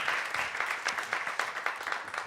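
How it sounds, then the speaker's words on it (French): An audience at an award ceremony claps for the winners of a category, giving a fairly soft but continuous round of applause with some sharper individual claps standing out near the middle. "on les applaudit très fort"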